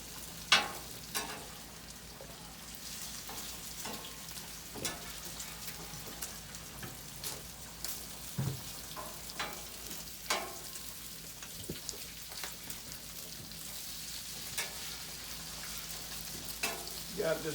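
Bacon frying on a Blackstone griddle outdoors on a cold night, a steady crackling sizzle broken by sharp pops and clanks of a spatula flipping strips, with no voices.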